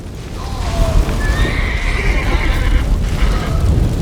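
A horse neighs in The Witcher 3, a rising, wavering whinny carried over a steady rumbling game backdrop, with faint hoof clatter underneath; the call sounds close and fairly loud, with no one talking.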